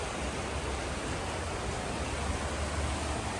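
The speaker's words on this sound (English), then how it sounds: "You hear the creek? It's flowing so fast in there." A dense, steady roar of a fast-flowing creek mixed with heavy rain, constant and close with no voices.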